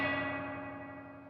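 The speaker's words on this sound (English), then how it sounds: "now I can do things like put the decay right up on the spring reverb and have a really weird sounding long" Keeley DDR pedal's spring reverb with the decay turned fully up, a long, shimmering metallic tail that slowly fades across the whole stretch with no playing over it.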